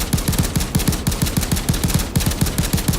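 A Little Friend rifle in the video game Payday 2 fires rapidly, producing sharp gunshot bursts in a quick, even rhythm that run through the whole stretch with no talking.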